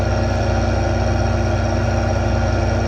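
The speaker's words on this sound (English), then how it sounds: "the drive control only shuts off one engine noise, not the other" A tractor engine idles steadily in Farming Simulator 2015, heard from a quiet cab: a continuous low, even rumble with a fine regular pulse and no talk over it.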